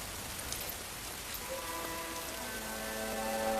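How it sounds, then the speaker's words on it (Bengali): Steady, soft rain falls as an even hiss of drops, fairly faint and continuous, with a low sustained musical tone rising beneath it partway through. "তোমার সন্তানের পবিত্র আগমনে এই অঞ্চলে বৃষ্টি বর্ষিত হলো।"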